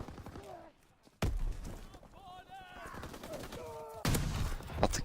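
Gunfire in a World War II shooter game, with bursts and bangs starting around one second and a louder volley near the end, under the player's ongoing talk and game sounds.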